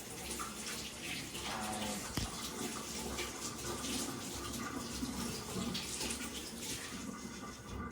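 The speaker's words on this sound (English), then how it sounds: "basically just wash my chives and the cucumber" A tap runs steadily while chives and cucumber are washed beneath it, a continuous close hiss of water with slight splashing changes and one brief knock.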